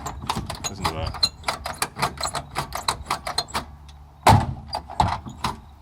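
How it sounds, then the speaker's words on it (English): A worn driver's door mechanism on a 6.5 turbo car clicks, clunks and rattles repeatedly as it is worked, ending in a loud slam, all close and busy. "Check out how this driver's door works."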